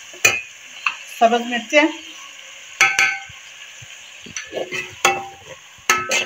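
A chickpea and spinach mix with tomatoes sizzles in a pan while a spoon stirs it, giving several sharp scraping knocks and bursts of frying, with a few brief words spoken.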